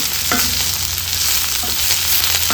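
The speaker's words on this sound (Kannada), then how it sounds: "ಪುದೀನ ಸೊಪ್ಪನ್ನು ಹಾಕ್ಕೊಂಡು ಫ್ರೈ ಮಾಡಿಕೊಂಡ್ರೆ ಆಯಿತು" Mint leaves fry for goat head curry masala in a hot pan, giving a loud, continuous sizzle with a few spoon scrapes and taps, and no voices.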